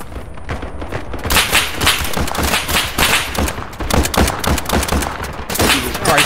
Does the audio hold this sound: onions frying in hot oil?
no